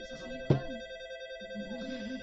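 Continuous electric ringing tone of a Japanese railway platform departure bell, the type used until 1989, steady and sustained, with a sharp knock partway through and a faint hum underneath.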